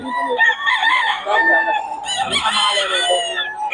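A lemon sweater gamefowl rooster at Bocaue lets out a loud, close crow, a long wavering call that rises and then trails off. A voice can be heard faintly in the background.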